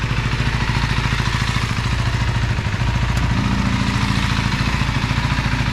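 A 2025 KTM 390 Enduro R single-cylinder engine idles on a dyno, fully warmed up, with a steady rapid loud chugging pulse close by and no talk.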